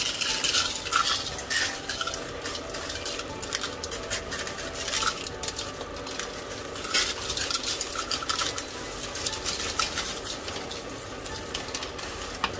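Ingredients, including sweet paprika, are stirred in a pot with a utensil, producing continuous close scraping and clinking over a steady sizzling sound from the cooking.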